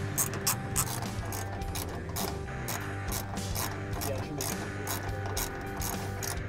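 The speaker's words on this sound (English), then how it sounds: "install them on the front 2 using a 12-millimeter wrench or socket" Socket wrench ratcheting as bolts are driven in to mount seat brackets on a Kawasaki KRX 1000, using a 12-millimeter socket; steady continuous clicking with mechanical clatter, close and moderately loud, with no talking.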